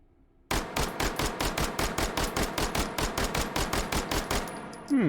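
An Uzi Micro fitted with a folding stock fires in the H3VR game, a fast, evenly spaced string of about twenty loud, close shots in one sustained burst, followed by a mechanical clatter.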